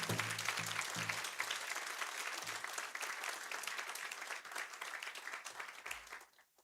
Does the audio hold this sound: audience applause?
yes